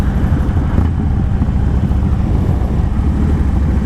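A Harley-Davidson Dyna FLD motorcycle ridden along, its engine a loud, steady low rumble mixed with heavy wind buffeting the microphone throughout.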